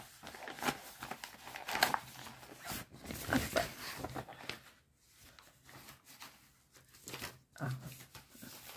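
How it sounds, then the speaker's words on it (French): A cross-stitch kit package, a 20 by 17 cm pouch with instructions on the back, being unwrapped by hand: bursts of crinkling and rustling plastic come in uneven handling bursts with short pauses, close and fairly quiet. "Donc on va déballer tout ça"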